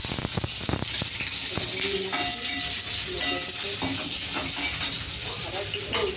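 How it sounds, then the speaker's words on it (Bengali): Pieces of pointed gourd (potol) frying in a pan with a steady sizzle, stirred now and then with scraping clinks; a voice talks faintly in the background. "এইদিকে দেখো পটলটা দিচ্ছি, পটলটা ভাজি"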